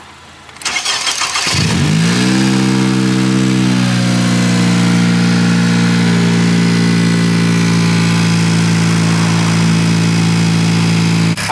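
A 10th-generation Honda Civic Si engine cranks briefly, catches and settles into a steady, close idle that runs on without interruption.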